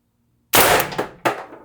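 Umarex TR50 air rifle firing a shot that strikes the target: a sharp, loud crack followed by a ringing metallic clang, then a second fainter impact echoing shortly after, with no talking.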